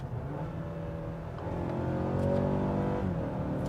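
A 2017 Mazda CX-5 engine rises and falls in pitch through repeated upshifts and downshifts into second gear, a moderate steady drone with gear changes audible as pitch sweeps.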